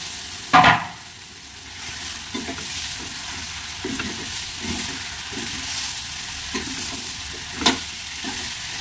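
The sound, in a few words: tomatoes stirred and frying in pan for chicken biryani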